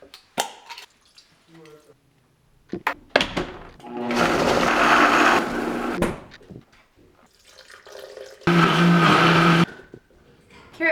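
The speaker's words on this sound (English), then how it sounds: "I'm gonna put them in the blender with some butter and some chicken stock" A kitchen blender pureeing cooked carrots with butter and chicken stock, running in two loud whirring bursts separated by clatter, pauses and quieter handling noise.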